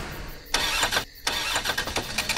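A car engine cranks in a few rough bursts, briefly catching before cutting out again, close and fairly loud with no voices over it.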